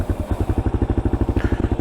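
A 2022 Kawasaki KLR650 single-cylinder engine with an FMF exhaust runs right after starting, a loud, close, steady rapid thumping pulse.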